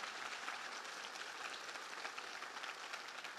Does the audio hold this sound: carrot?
no